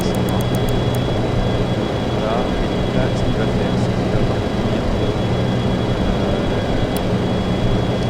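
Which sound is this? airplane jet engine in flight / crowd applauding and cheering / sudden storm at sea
airplane jet engine in flight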